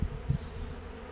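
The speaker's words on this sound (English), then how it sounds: "You'll always spot a few bees here." Honeybees buzz softly around an open beehive while honey is being collected, a low continuous hum with a couple of brief louder swells close by.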